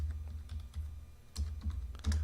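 Keys pressed on a computer keyboard for Excel shortcuts, several quiet close clicks in small clusters over a low steady hum, no voices.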